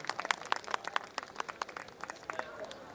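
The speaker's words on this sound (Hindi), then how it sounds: "एक बार उनके लिए आप सबसे तालियों की अपील" Audience applause at a kavi sammelan, a Hindi poetry gathering, in 2026: a fairly quick run of sharp, uneven hand claps, close and moderately loud, with a few stronger claps standing out and no talking over it.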